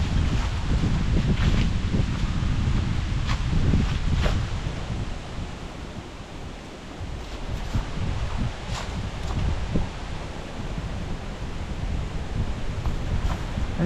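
Wind gusting through trees along a trail in Kaercher Creek Park in Hamburg, Pennsylvania, a steady broad rush with rustling that swells and eases, buffeting the microphone throughout, with no talk.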